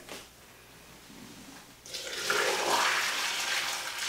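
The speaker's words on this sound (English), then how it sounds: "pouring a pot of boiling water down to hopefully" Boiling water rushes down a clogged shower drain after a quiet start, a loud gushing pour beginning partway through and continuing steadily to the end.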